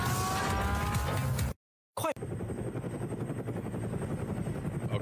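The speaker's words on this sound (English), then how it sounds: "we've got a helicopter going to pick up a bulldozer and drop it" A helicopter's rotor chops steadily at a distance, a rhythmic whirring drone that briefly cuts out before resuming.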